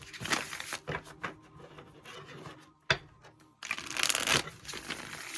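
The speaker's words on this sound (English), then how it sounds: "If I can shuffle." Tarot cards are riffled and shuffled in several quick bursts, with soft rubbing and a sharp tap between, close and fairly quiet.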